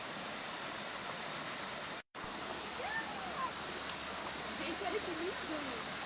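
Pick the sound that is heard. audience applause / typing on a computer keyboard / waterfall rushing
waterfall rushing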